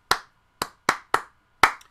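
Five sharp hand claps in a rhythmic call pattern used as an attention signal: three evenly spaced, a pause, then a final clap, close and crisp with no talk.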